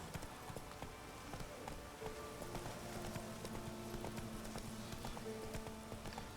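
Steady clip-clopping of black horses' hooves in The Witcher 3 video game over a dense, continuous ambient backdrop, the footfalls even and moderately close, with no talking.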